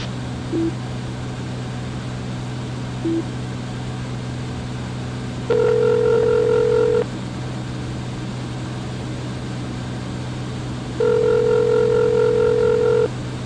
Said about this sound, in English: we're going to use the satellite phone here